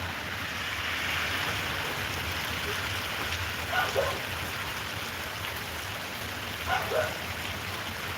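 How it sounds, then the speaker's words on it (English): Steady rain falling outdoors in the city of Cincinnati during a rain delay, a continuous even hiss of drops with a couple of brief louder spatters, no voices. "trying to wait for the rain to stop."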